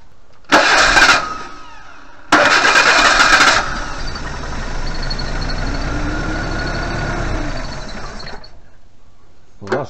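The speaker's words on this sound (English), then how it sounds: "I'll just put a little dribble down the carburetor like that. We'll just see if it fires." A Suzuki Vitara engine with petrol dribbled into the carburetor cranks in two loud bursts, then fires and runs steadily for several seconds before cutting out.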